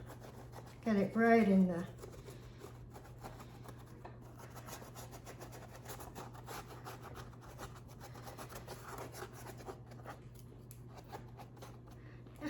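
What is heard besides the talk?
stiff brush rubbing on a surface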